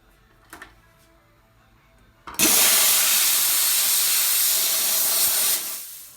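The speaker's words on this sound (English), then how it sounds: "steam it off." A jewelry steamer blasts a rhodium-plated ring clean, a loud, steady, close hiss that starts abruptly after a few faint clicks and runs for about three seconds before cutting off.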